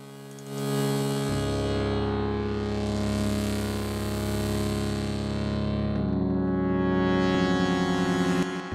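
A Korg Collection software synthesizer patch with a multi-breakpoint EQ-style filter plays a sustained, buzzy tone rich in harmonics. It holds steadily for several seconds while the filter slowly sweeps the brightness up and down, loud and alone.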